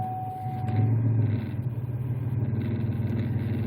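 A 2004–2008 Pontiac Grand Prix engine starts up with a brief surge and settles into a steady, close, pulsing idle rumble, with no talk.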